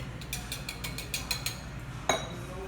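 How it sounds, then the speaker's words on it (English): Ice cubes poured into a copper mug while mixing a drink with ginger beer, giving a run of light clinks and rattles followed by one sharper clatter near the end, close and fairly quiet. "Now I'm going to take some ice, pour it into the copper mug."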